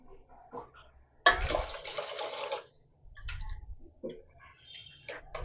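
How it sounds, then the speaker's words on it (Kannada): Water is poured into tamarind for a fish curry in a short splashing burst lasting about a second. Faint clicks and small drips follow in a quiet kitchen. "ಇನ್ನು ನೀರು ಸೇರಿಸ್ಕೋಬೇಕಾಗುತ್ತೆ"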